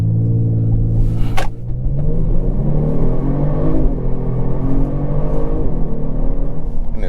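A 2022 Genesis G70 3.3T AWD launching hard from a standstill, its twin-turbo engine roaring loud and steady with a deep rumble and rising harmonics for the full stretch, no talking.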